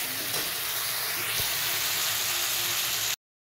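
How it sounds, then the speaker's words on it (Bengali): Spice paste made with crushed onion, garlic and ginger fries in oil for a cauliflower and potato curry, giving a steady close-up sizzle and hiss with faint stirring. The sound runs for about three seconds, then cuts off abruptly. "মশলাটা ভালো করে কষে নিতে হবে,"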